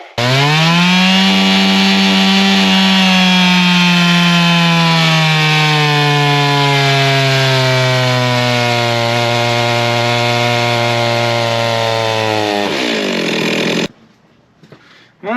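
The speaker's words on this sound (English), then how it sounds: "I'll get it warmed up real good, put it on the dyno, get some baseline runs on it" A Stihl MS382 chainsaw runs at sustained high revs on a dyno after warming up, a loud, steady, close-up whine that sags slightly and holds for about thirteen seconds before cutting off into near silence.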